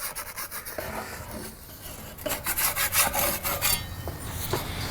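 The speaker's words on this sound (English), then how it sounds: "So, loosen it up with a spatula." A metal spatula scrapes under a grilled pepperoni pizza in short, gritty rasping strokes, faint at first and then louder and quicker in the middle, with no talking.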